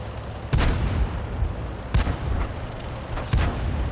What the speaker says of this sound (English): These types of fast-firing guns, they don't do a lot of damage, but if the enemy has low hit points, you can kill a lot of tanks really fast.